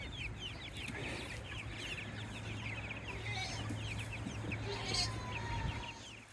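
Young meat chickens crowded into a small pen cluck and chirp continuously, a busy chorus of overlapping bird calls over a low steady hum.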